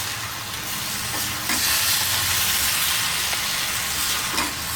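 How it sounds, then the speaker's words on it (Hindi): Potato and ridge gourd curry stirred in a pan, a spoon scraping and turning the vegetables over a soft steady sizzle, close and alone. "ये देखिए अच्छे से मिक्स कर देती हूँ और धीमी आंच करके ढक दूँगी।"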